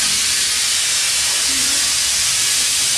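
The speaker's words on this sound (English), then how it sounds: "This is the flow of water that I have to wash the radiator out" A water hose spraying hard inside a wash station to flush out a radiator, a loud steady hiss of rushing water throughout.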